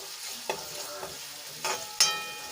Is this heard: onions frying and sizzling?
yes